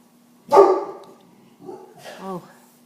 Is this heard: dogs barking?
yes